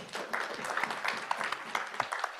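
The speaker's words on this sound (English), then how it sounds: "Can you clap for him?" Audience applause fills a hall at a social protection dialogue, a steady wash of many hands clapping with a few sharper individual claps, moderately loud and continuous throughout.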